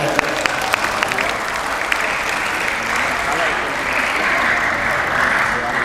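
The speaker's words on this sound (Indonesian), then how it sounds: "Tepuk tangan untuk anak-anak kita" Crowd applause for schoolchildren at an elementary school graduation ceremony, a dense, sustained burst of clapping that stays loud and even throughout, with a few sharper claps standing out near the start.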